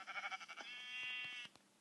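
Sheep in the video game Minecraft give a wavering bleat, a pulsing start that stretches into a held tone and then breaks off, followed by a couple of faint clicks.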